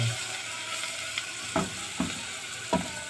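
Garlic frying in a little oil for a moussaka tray, a steady soft sizzle broken by three scraping stirs of a spoon, close and moderate, with no talking.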